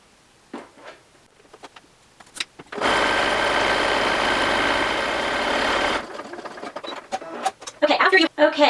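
A sewing machine runs steadily for about three seconds, stitching the edges of a shawl collar, with quiet handling noises before it and a voice speaking after.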